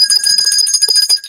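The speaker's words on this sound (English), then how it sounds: "The world's largest, loudest jingle bell." A very large, loud jingle bell rings in a rapid, continuous shimmer of bright metallic tinkles, close and clear with no voices.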